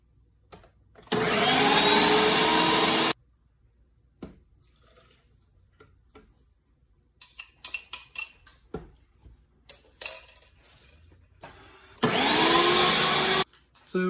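A blender whirs loudly as it purees tomatoes for a low-carb ketchup substitute, running in two bursts of about two seconds each, with kitchen clatter and faint shuffling in the pause between them.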